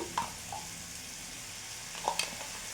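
Spice paste goes into softened fried tomato with turmeric in a pan for a fish curry, giving a quiet sizzle under two brief utensil clinks and scrapes of stirring.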